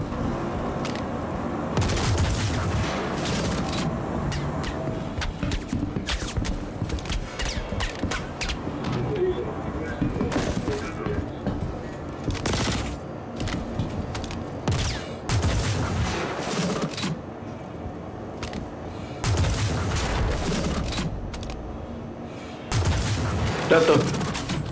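Repeated shots from the Electron Bolt sniper rifle in Star Citizen, sharp cracks with electric discharge spaced irregularly over a long stretch, with someone talking over and between them.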